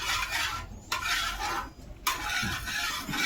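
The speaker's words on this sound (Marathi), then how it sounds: "तेल मस्त टाकलं आता." Oil spreading across a hot tawa for dosa batter, a steady broadband hiss and crackle of sizzling that runs continuously near the microphone, with a few brief clinks of utensils and short gaps in the sizzle.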